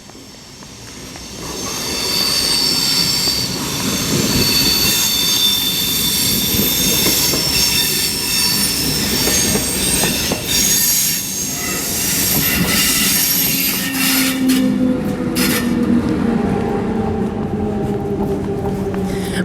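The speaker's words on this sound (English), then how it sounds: "train arriving," A train rumbles in loud and steady, wheels grinding and squealing with high metallic whines as it slows, a continuous heavy roar lasting the whole stretch.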